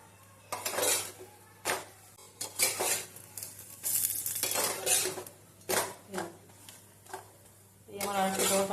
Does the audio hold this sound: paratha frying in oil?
yes